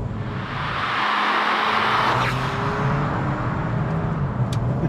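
A MK5 Golf GTI Estate with one rear exhaust box removed rumbles steadily close by, its engine and exhaust note holding a continuous moderate drone.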